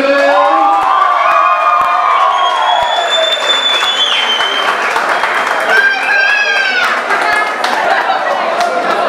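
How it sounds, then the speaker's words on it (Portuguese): A crowd at a boxing event applauds and cheers loudly, a continuous roar of clapping with shouts and whistles rising above it, filling the whole stretch. "Uma salva de palmas pra esses dois guerreiros!"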